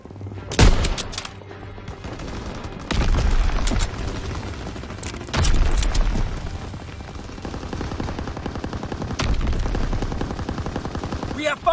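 Gunfire fills a team deathmatch in the World War II shooter Call of Duty: WWII. Repeated bursts of automatic fire and sharp single shots come in waves, with loud cracks near the start and dense rattling through the rest.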